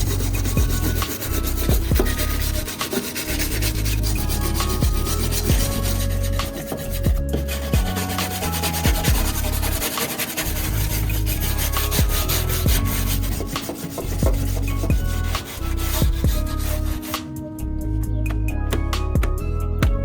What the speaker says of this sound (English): I'm just gonna get a wire brush and scrub off the surface, get this a little cleaner.